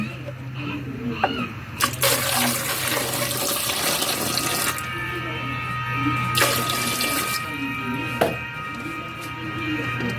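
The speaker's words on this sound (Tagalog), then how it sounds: "Lagyan natin siya ng tubig." Water runs from a tap into a pot for boiling eggs, a close, steady gushing splash that shifts in tone as the flow changes and the pot fills, with a few knocks and clatters.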